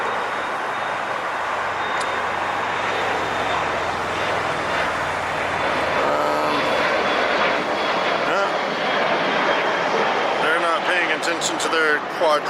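A Boeing 747 cargo freighter at LAX roars steadily, a broad continuous jet-engine rush that swells slightly as it passes nearby, while people talk over it.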